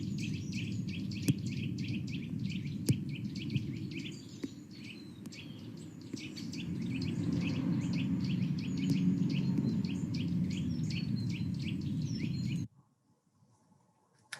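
Garden birds chattering and calling constantly in a dense, busy chorus of repeated chirps and tweets at moderate distance, with a low background rumble, ending abruptly near the end.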